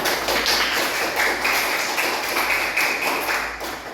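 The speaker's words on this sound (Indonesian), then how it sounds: "tepuk tangan untuk semuanya" A roomful of students in an Islamic religious education class claps together, producing a dense, steady patter of hands that swells in slight waves and tapers off at the end.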